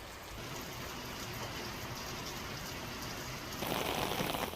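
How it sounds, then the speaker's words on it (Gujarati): Rain falling over a rural village area in Gujarat, a steady broadband hiss of drops on surfaces that swells louder toward the end. "ગ્રામીણ વિસ્તારમાં વરસાદ વરસ્યો"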